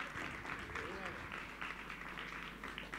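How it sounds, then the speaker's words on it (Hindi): An audience at a Hindi poetry gathering claps in a soft, continuous patter of applause, with a voice faintly audible beneath it. "ताली आपकी कमजोर होती जा रही है"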